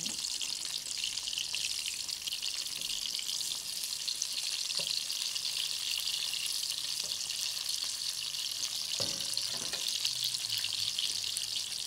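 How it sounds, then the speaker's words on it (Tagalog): Onion sizzles and fries steadily in a hot pan, a bright, continuous crackle with a few soft clanks from stirring or handling, close and alone without talking. "Bago ang lahat, prito ko muna tong onion."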